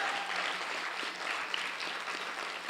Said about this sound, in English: I just want to give a big round of applause, please, to Rachel and Amy for putting this on